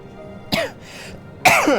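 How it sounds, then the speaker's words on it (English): Two sharp, throaty coughs about a second apart, close and fairly loud, with a quiet breathy pause between them. "I can't stop coughing"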